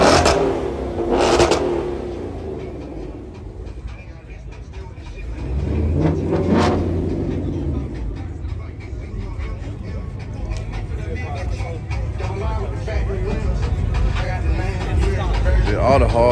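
At a lively Atlanta car meet, a loud car engine revs hard in repeated surges and settles into a sustained roar, while people talk and shout nearby.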